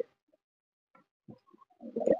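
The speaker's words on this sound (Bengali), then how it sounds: "আমাদের নরটা কিন্তু ডাকাডাকি করছে" A male pigeon calls up close, short coos building into a louder burst of cooing at the end after mostly quiet moments.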